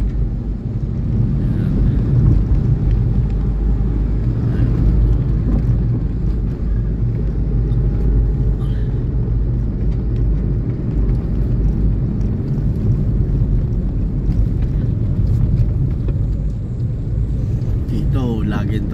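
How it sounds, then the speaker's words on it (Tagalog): Road traffic in Quezon City rumbles steadily for the whole stretch, a dense low roar of passing vehicles with occasional engine swells and wind buffeting, under faint background voices. "Dito laging traffic dito."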